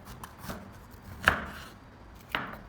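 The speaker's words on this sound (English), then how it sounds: "Place it on a cutting board and cut it in half lengthwise" A knife cuts a bitter melon in half lengthwise on a cutting board, giving three quiet, distinct knocks against the board spaced about a second apart, alone and fairly close.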